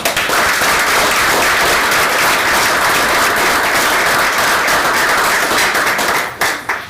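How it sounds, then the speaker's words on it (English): A room full of people applauds at a city commission meeting, giving a dense, loud, steady wash of clapping that carries on for several seconds before it tapers off at the end. "give them a round of applause"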